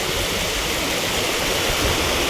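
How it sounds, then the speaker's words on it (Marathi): Steady rushing of clear, fast-flowing river water, a broad continuous wash of sound heard alone and close by without any voices. "पाणी बघा केवढंच साफ आहे आणि किती वाहतं पाणी आहे"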